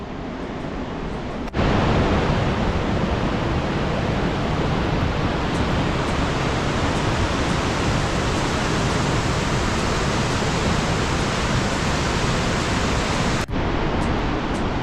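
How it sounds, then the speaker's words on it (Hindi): A Himalayan mountain stream on the Gangotri to Gaumukh trek rushes down toward the Ganga, a loud, steady roar of flowing water that cuts in abruptly, holds unbroken, then drops away near the end. "पानी ने कैसे रास्ता बनाया हुआ पहाड़ों के बीच में से, और नीचे जाके गंगा नदी में मिल रहा है ये पानी"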